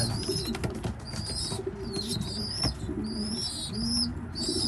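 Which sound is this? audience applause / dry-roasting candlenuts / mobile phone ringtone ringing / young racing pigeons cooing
young racing pigeons cooing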